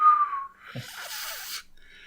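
A voice imitates the whistling swoosh of a Yeti's weapon, a breathy airy rush that rises after a short tonal whistle and holds steady for about a second before cutting off.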